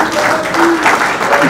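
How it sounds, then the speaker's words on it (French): Short burst of loud crowd applause at a political rally in the Democratic Republic of the Congo, dense clapping blended with crowd voices and shouts. "Applaudissez,"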